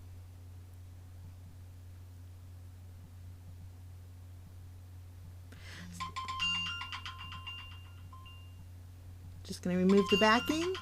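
A mobile phone rings twice in a quiet crafting room, melodic electronic tones sounding briefly around the middle and again louder near the end, while someone talks as she adds foam tape to card toppers.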